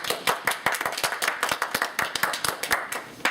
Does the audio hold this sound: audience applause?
yes